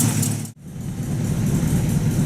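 A 1950 Buick Roadmaster engine idles steadily, a close, loud low rumble with one brief dropout before the idle continues evenly.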